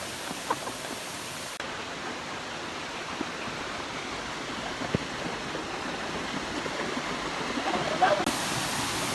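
Clear stream of water pouring steadily into a deep rock pool outdoors, a continuous broad rushing wash that swells slightly toward the end, with no voices.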